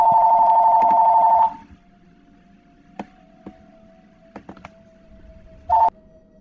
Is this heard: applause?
no